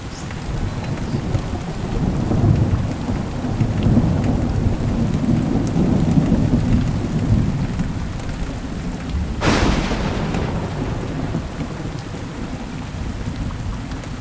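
Heavy rain pouring steadily on a mountain trail with low rumbling thunder throughout and a sharp crack partway through, loud and continuous with no talking.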